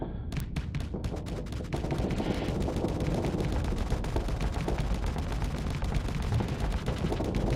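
Dense, continuous torpedo and weapons fire from a space combat battle in the game Starsector, a steady barrage of rapid impacts and blasts at a constant loud level throughout.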